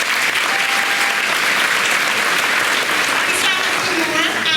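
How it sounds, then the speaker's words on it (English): A huge round of applause from a graduation ceremony crowd, loud and sustained dense clapping throughout with faint voices and a brief whistle-like tone mixed in. "let's give him a huge round of applause"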